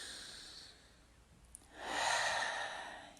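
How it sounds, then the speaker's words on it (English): A slow, deep breath from a guided relaxation session: a soft, airy breath early on, a short pause, then a longer and louder breath that swells and holds before fading, close and alone with no talking. "Take another nice deep breath"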